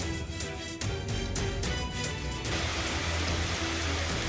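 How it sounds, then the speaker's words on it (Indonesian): A sudden hailstorm in Majalengka, West Java, pelts down in a dense, steady patter and hiss of falling ice that fills the whole scene without a break. "Hujan es ini baru pertama kali terjadi di Majalengka."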